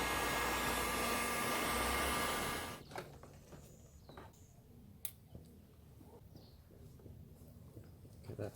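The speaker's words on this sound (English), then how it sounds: "Just going to heat shrink the connections to protect them from the elements a bit." A heat gun shrinks heat-shrink tubing over wire connections while heated grips are fitted to a motorcycle: a loud, steady blowing roar for nearly three seconds, then it cuts off, leaving quiet clicks and handling noises.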